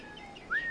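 A short, clear rising whistle note from a character in the game Assassin's Creed Black Flag, sliding upward and holding, faint and alone against a quiet background.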